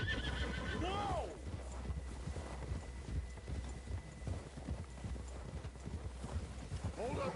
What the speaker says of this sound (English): Are you riding that horse, or is that horse riding you?